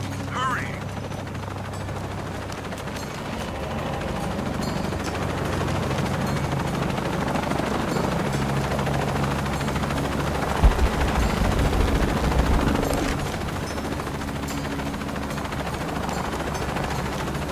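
A helicopter in Shadow of the Tomb Raider thrums with a steady rotor drone under bursts of automatic gunfire and a mid-clip impact, while characters speak over the din.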